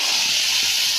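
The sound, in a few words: ginger garlic onion tomato paste added to hot oil, sizzling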